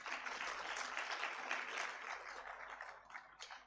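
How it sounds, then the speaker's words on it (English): An audience at a university congregation ceremony in a conference centre applauds a guest speaker, a sustained, even wash of many hands clapping at a distance, fairly faint, tapering off toward the end. "Another round of applause for her, please."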